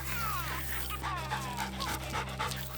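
A hunting dog on a pheasant hunt pants loudly and rapidly close to the microphone, with quick breathy gasps and faint whimpers throughout.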